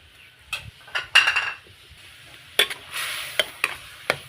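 Grilled pork stir-fried in a pan with fermented fish sauce, a soft sizzle under irregular scrapes and clacks of a utensil against the pan, close and alone with no voices.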